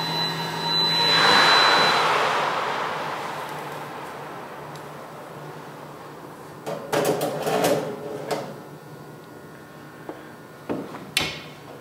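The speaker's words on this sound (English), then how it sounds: "Once you open and close the door, your program will automatically start." A Cadco oven door opens with a soft rushing swell early on. Later come a few sharp clunks and clicks as it closes, moderately loud in a quiet room.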